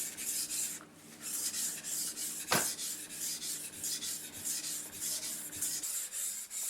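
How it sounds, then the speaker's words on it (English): A kitchen knife blade is worked back and forth across a wet 1200 grit sharpening stone, giving a steady, close rasping scrape in repeated strokes with no talking. "So now I'm finishing off on this 1200 stone"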